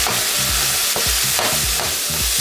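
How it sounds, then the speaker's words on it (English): Ground meat browns in a pan on a stove with a steady, loud sizzle, broken by scraping stirs about every half second, close up and with no talk. "The meat is almost done browning up here."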